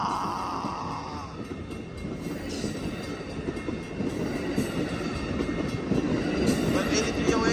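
An Amtrak Capitol Corridor train rolls past the 105th Ave railroad crossing, a steady rumbling roar with rail clatter that swells toward the end, as a person talks briefly over it.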